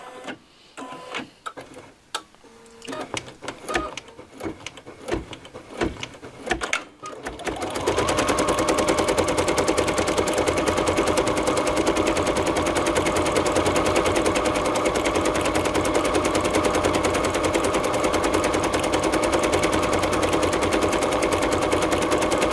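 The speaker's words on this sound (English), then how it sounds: "you can see it's beginning to stitch everything down, and we'll let this guy run" Embroidery sewing machine stitching out a cutwork coaster, starting with some handling clicks and then settling into a fast, loud, steady rapid-fire stitching rhythm that runs continuously for about fifteen seconds.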